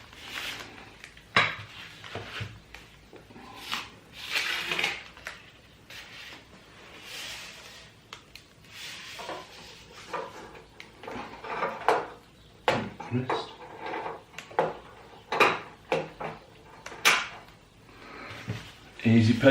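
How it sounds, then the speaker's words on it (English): Bulbs are fitted into new reflectors on a budget grow light setup, with a scattered run of sharp metallic clinks, taps and scrapes, some close and loud, between quieter pauses. "I'm going to put the bulbs in the lights now."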